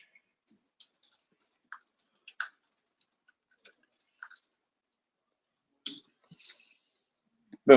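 Sparse, light computer keyboard typing in a quiet office, scattered clicks in short bursts with pauses, then a few isolated keystrokes near the end.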